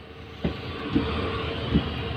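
A train rumbles steadily along the tracks past Goalpara town with a low continuous roar and periodic wheel clunks over rail joints.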